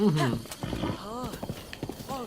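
Game horse in Zelda: Breath of the Wild, hooves clip-clopping in a quick steady rhythm, with a whinny near the start and a voice talking over it.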